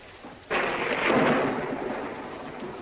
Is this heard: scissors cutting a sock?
no